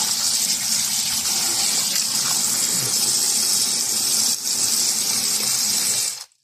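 Tap water runs in a steady, loud gush over food being rinsed in a kitchen sink for tomato sauce, continuous for about six seconds before cutting off abruptly.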